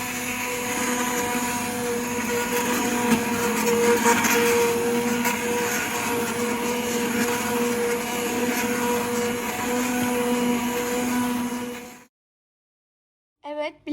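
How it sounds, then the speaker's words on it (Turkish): A blender blending peach jam gives a loud, steady motor whine that runs continuously for about twelve seconds, then cuts off abruptly, leaving near silence and a brief rattle. "Şimdi blenderdan geçireceğiz."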